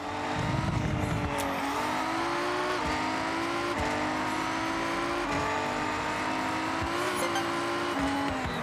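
Forza Horizon 6 all-wheel-drive race car on a lap, a loud steady engine drone with gear-change steps and tire noise throughout, no talk.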